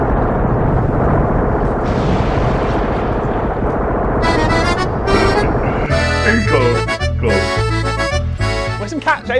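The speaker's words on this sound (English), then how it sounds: "This is high-end production right here with these bombs. The explosions are realistic." Loud booming explosion effects from a low-budget Christmas spy movie, heavy blasts running almost continuously through the stretch and joined by music and voices in its second half.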